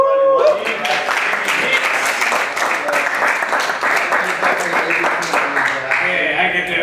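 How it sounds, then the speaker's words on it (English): Convention panel audience breaking into a burst of applause, loud, dense clapping that stays steady for several seconds with faint voices mixed in. "I also wanted to give this guy a round of applause"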